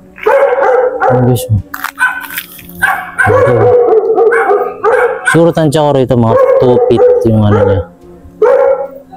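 Dog barks at an abandoned resort near a children's pool, several loud yips and barks mixed in with someone talking close to the recorder.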